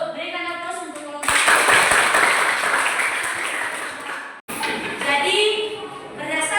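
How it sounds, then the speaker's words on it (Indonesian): A classroom of Indonesian junior high students bursts into loud, sustained applause for a student group, dense clapping that briefly cuts out and then resumes. "Berikan aplaus untuk kelompok."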